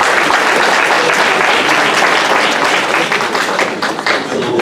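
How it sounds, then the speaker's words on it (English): Guests at a Toronto community reception for Ghana's second lady give a round of applause, loud, close, sustained clapping from a crowd that stays dense throughout and eases slightly near the end. "Let's give them a round of applause"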